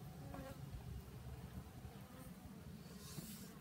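Honey bees buzz around a hive in a continuous, low, wavering drone, a faint close swarm hum with individual bees passing near and away, steady throughout with no talking.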